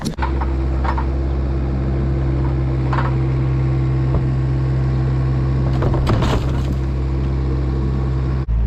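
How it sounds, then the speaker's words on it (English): A skid loader engine idles steadily and loudly at close range on a farm, a constant low hum with a few faint knocks and clanks, no talk. "Now we have to put the bucket on the skid loader and clean it off."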